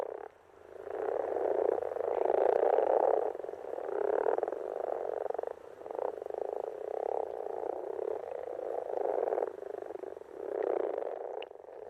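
Spawning frogs croak in a dense, continuous chorus, with overlapping pulsing calls swelling and fading, fairly close and with no talk.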